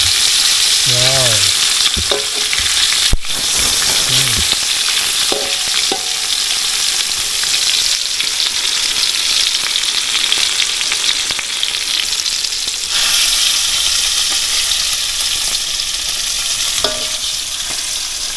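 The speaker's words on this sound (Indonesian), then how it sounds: "jadi ini dia ikan hasil jaring kita udah dimasak, yaitu ikan goreng panggang kerutuk" Net-caught fish fries in a pan, a loud, continuous sizzle and crackle with occasional stirring scrapes and clinks, close up and with no speech.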